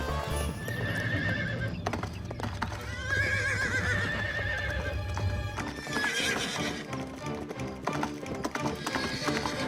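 A horse whinnies loudly several times while its hooves clip-clop in a quick running rhythm, close and prominent, with voices speaking and calling over the scene.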